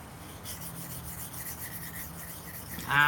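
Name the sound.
sharpening an S35VN steel knife on a whetstone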